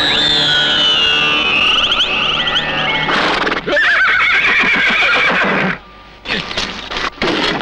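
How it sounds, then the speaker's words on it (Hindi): A mare whinnies loudly and at length, followed by a rapid clatter of hooves as she runs off, the neighing and hoofbeats close and dominant with brief gaps near the end. "भाग गई ना तेरी घोड़ी"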